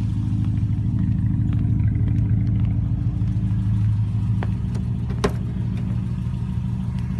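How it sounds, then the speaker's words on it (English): Steady low rumble of a Subaru Forester engine from inside the cabin while driving on a cold, foggy morning, with faint clicks and a brief sharp tick partway through. "Taking the Forester to work."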